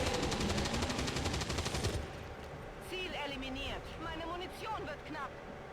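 Rapid automatic gunfire from the XCOM 2 video game rattles loudly for about two seconds, then gives way to game sounds and a voice speaking.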